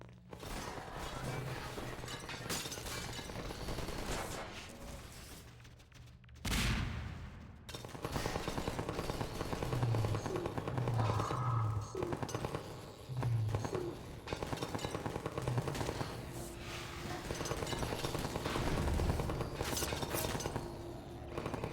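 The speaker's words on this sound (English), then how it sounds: "Oh god, shotgun." Shotgun fire and combat in Half-Life 2, with repeated sharp blasts, crashes and shattering over a constant busy game din that runs for about twenty seconds, loud throughout, with no talk.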